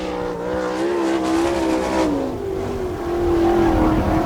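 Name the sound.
sprint car racing a qualifying lap at Attica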